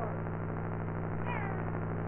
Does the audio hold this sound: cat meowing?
yes